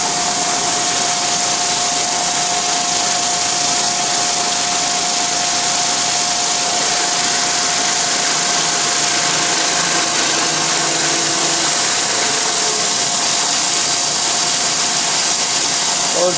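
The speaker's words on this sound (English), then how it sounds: "Larger drill puts out larger chips." A CNC machine drills holes with a larger drill while machining a Bradley GT II tilt hinge, producing a loud, unbroken mechanical whir with a steady whining tone throughout.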